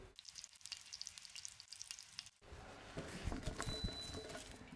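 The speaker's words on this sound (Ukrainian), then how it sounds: "Баклажани смажуться" Eggplants frying in a pan for a winter preserve, a steady close crackling sizzle that grows louder and denser partway through, with scattered pops and spatter.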